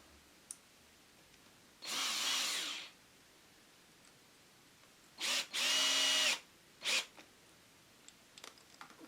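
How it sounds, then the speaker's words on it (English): A power drill bores a hole into a concrete block in three bursts: one sustained run of about a second, then two close runs and a short final blip, loud and close with quiet between. "Just drill one hole and fit that in the block"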